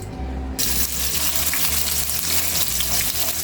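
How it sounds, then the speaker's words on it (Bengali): Oil poured into a pan while cooking rui fish with lemon leaves, a brief steady gushing pour that begins abruptly and runs on as a bright, dense splashing stream close by. "তো আমি এখানে তেল ঢেলে দিচ্ছি।"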